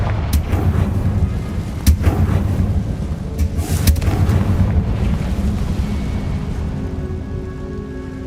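Repeated spell blasts from combat in the video game Hogwarts Legacy, a dense rumbling barrage with several sharp cracks over a continuous low roar, loud and sustained throughout.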